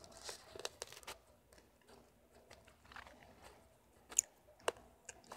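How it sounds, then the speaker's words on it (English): Candy being crunched and chewed close to the mouth, with irregular soft bites and a few sharper crackling snaps, quiet and without talk, during a PUBG Mobile gaming session. "If you hear a crunching noise, that's just me eating candy."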